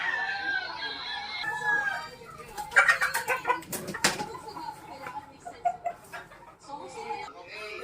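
A hen clucks repeatedly nearby while someone talks, with other chickens and a distant rooster crow in the background of a farmyard.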